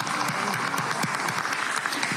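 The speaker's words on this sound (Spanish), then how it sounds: "Un aplauso a la nueva secretaria." Scattered applause greets a new presidential communications secretary, moderate clapping from a modest group with distinct individual claps, fairly even throughout.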